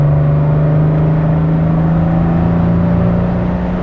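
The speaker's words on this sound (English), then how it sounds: "if I floor the throttle now, there isn't a moment's hesitation" A classic Aston Martin DB4 Mk5 straight-six held at full throttle, a loud, close, steady engine drone with an even low growl and no break or pitch change.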